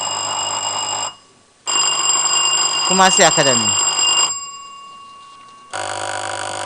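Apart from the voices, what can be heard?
quiz contest answer bells being tested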